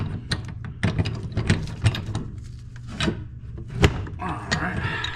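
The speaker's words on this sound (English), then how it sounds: "so now we're tightening the unions in" Wrench tightening a union fitting on a gas line pipe, giving repeated close ratcheting clicks and metallic scraping in uneven bursts over a low steady hum.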